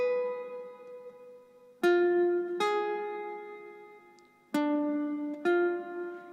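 A diminished arpeggio sequence on guitar, notes struck one at a time in a steady pattern, with clear sharp attacks and each note ringing into the next, played alone and close.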